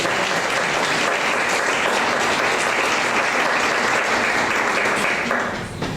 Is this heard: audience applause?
yes